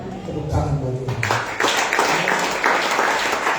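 A church congregation breaks into applause during a Sunday service. A voice speaks briefly first, then a broad, sustained wash of clapping follows and fills the rest of the moment.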